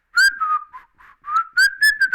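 Someone whistles a short, bright, choppy tune close up while climbing down a ladder through an open manhole, the notes broken into quick bursts with brief gaps.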